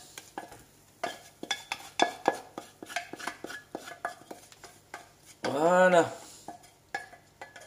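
A spoon stirs a milk mixture in a pot as it comes to a boil, giving irregular scraping clinks against the metal. A short burst of speech cuts in near the end.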